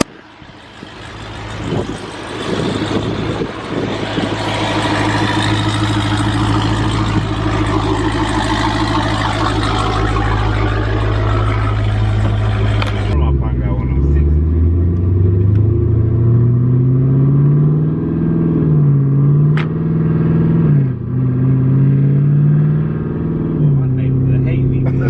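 A 1000-horsepower Jeep Trackhawk roars loud and close with a high supercharger whine, then drops to a deep rumbling idle with rising and falling revs, while people talk over it.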